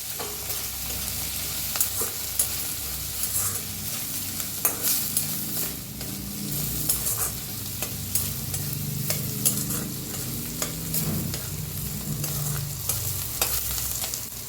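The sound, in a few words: onion and turmeric being roasted and stirred in a pan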